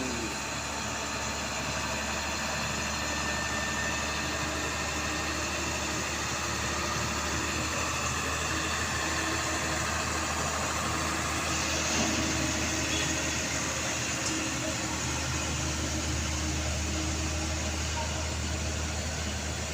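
Mitsubishi L300 truck engine labouring on a steep hill climb, a steady low droning rumble with little variation, moderately distant, with faint voices in the background.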